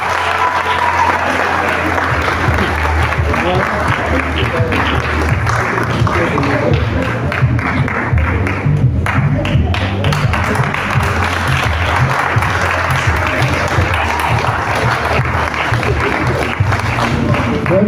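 Audience applause at a school graduation assembly after a distinction award is announced, a steady dense wash of clapping from a large crowd filling the whole stretch, with some voices mixed in underneath.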